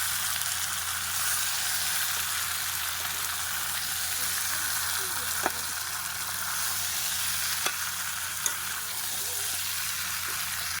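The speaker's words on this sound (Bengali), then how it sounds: "এবারে খুব ভালোভাবে মশলাটা মাংসের সাথে কিন্তু খুব সুন্দর করে মাখিয়ে নেব কষাই হচ্ছে" Country chicken with spices and potatoes sizzling and frying in a pan in a rural Bengal kitchen, a continuous loud hiss with a few sharp clinks of stirring, no talk over it.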